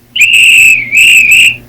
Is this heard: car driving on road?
no